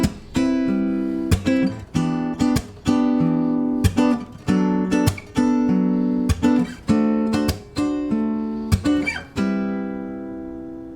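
Guitar strumming major 7, minor 7 and dominant 7 chord inversions in a steady rhythmic groove, each chord struck sharply and left to ring before the next change, loud and close with no talking.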